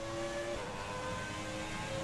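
The engine of a 1992 Williams FW14B Formula One car in the F1 2020 video game screams at high revs, with a sharp pitch change partway through a short, loud, continuous burst.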